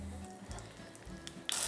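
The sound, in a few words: fish fillet sizzling in a hot pan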